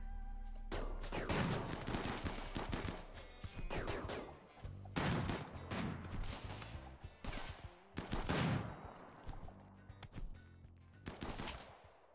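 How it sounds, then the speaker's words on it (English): Automated turrets in the Rimworld colony sim fire in sustained, rapid bursts, with several loud stretches of machine-gun chatter separated by short pauses, no talk over them. "Look at the turrets from over here firing."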